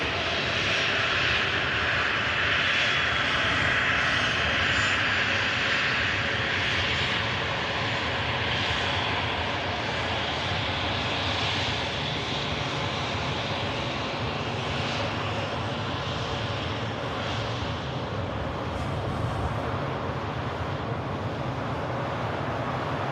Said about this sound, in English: There's an aircraft on finals.